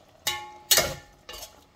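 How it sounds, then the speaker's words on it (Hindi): Fish curry being stirred in a pan on the gas gives three quick scraping, sizzling strokes, close and alone. "अभी हम इसको मिक्स कर देंगे।"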